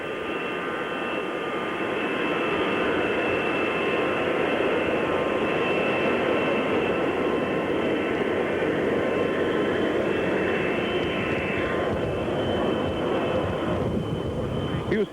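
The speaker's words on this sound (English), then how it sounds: "the noise you hear in the background is that of a commercial jet going out to take off" A commercial jet taxis out to take off at an airport, a loud continuous engine roar and whine holding steady for the whole stretch, recorded from nearby with a broadcast-era tone and no clear talk over it.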